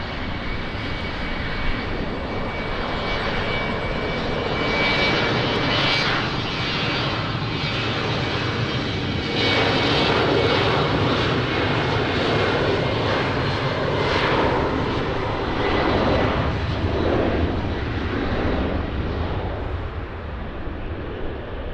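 Airliner taking off from runway 20 at Lisbon Airport, a loud sustained engine roar heard from a distance that holds steady and then slowly fades, with no talk.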